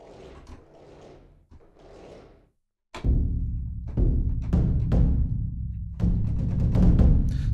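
Taiko drum high rolls played with sticks from the Stormdrum 3 sample library: dense, rumbling rolls in bursts, with a short gap before a louder, fuller sustained roll that keeps swelling, no voices.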